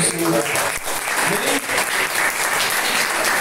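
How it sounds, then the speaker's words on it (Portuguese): A church congregation bursts into loud, sustained applause, dense clapping filling the room for a few seconds. "Dá um aplauso ao Senhor."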